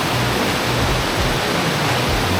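Rushing water at the water-powered flour mills by the Pliva waterfall in Bosnia and Herzegovina: a loud, steady, broadband roar with no break, close and filling the scene, with no voices.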